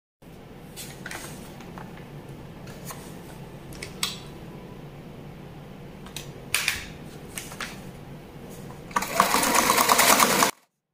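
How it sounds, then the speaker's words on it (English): A sewing machine stitches across a fabric strip in short rattling bursts, then runs in a louder sustained buzz near the end, close and clear with no talking. "So the next thing now is to sew on top like this."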